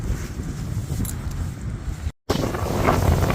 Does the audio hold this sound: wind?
yes